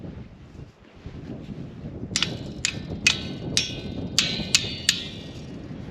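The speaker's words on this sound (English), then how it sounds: "I used a hammer." Seven sharp hammer strikes ring out at a steady, unhurried pace while fixing a barbed wire fence on a South Dakota farm, over faint wind and background noise.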